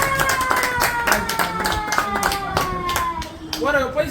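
An audience claps together at a lively gathering, a dense burst of applause lasting several seconds over a steady tonal sound and some voices in the background.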